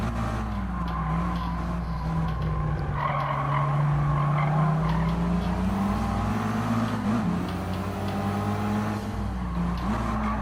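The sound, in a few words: car braking and tires skidding in GT Sport video game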